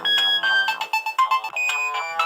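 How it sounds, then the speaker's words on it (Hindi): A mobile phone ringtone plays alone, a bright electronic melody of repeated chiming tones over about two seconds, loud and close. "इसी समय उसका मोबाइल बज उठा।"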